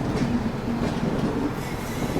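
Aboard the Andhra Pradesh Express, a low steady rumble of the train moving slowly fills the carriage, with a faint tonal hum and no distinct clatter.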